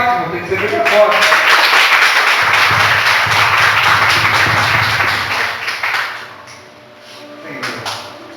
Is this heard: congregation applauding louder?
yes